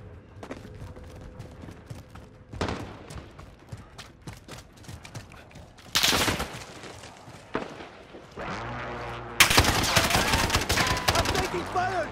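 Gunfire in Call of Duty: Modern Warfare, in a Plunder match, with scattered shots and louder bursts of rapid automatic fire toward the end, layered over game ambience.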